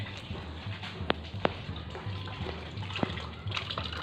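Water runs and splashes steadily, with a few sharp knocks and clicks over the flow.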